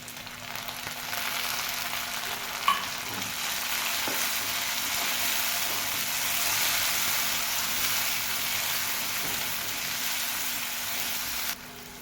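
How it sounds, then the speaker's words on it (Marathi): Onion and tomato frying in a pan, a steady, even sizzle lasting throughout with a brief tap of a utensil early on and little other disturbance. "टॅमॅटो पण चांगला फ्राय झाला आहे आपला"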